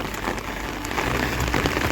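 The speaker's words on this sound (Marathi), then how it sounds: "किती मुसळधार पाऊस चालू झाला आहे आता" Steady, dense rain pours down continuously on the Aadrai jungle trek trail in Maharashtra, a loud broadband hiss of drops hitting surfaces with no voices.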